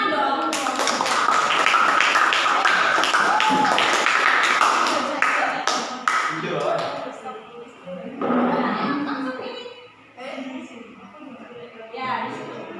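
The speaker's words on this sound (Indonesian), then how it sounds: "Tepuk tangan dong." Classroom of ninth-grade students claps loudly and briskly for several seconds, the dense applause fading into scattered claps, chatter and laughter as a teacher's voice speaks.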